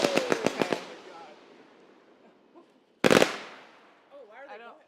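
Fireworks at a summer outing in Michigan: a quick string of sharp firecracker pops, then one loud blast with a long echoing decay, and crackling afterward, with people's voices faintly in the background.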